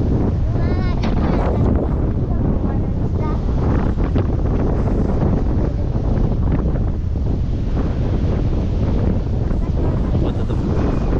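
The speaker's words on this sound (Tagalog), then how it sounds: "Malakas yung alon." Strong surf during Typhoon Uwan near a farm, a continuous loud roar of waves churned by heavy wind gusts hitting the microphone, with a person talking over it.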